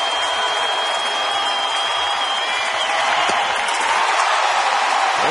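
A large baseball stadium crowd during a New York Mets at Houston Astros night game roars and applauds in a steady, dense wash of cheering and clapping heard from a distance.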